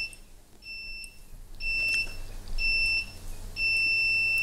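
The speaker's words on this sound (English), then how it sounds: "You've pressed the buzzer." Repeated electronic quiz buzzer beeps during an IT quiz show, each a steady high tone lasting about a second, with short gaps between them, sounding loud and close.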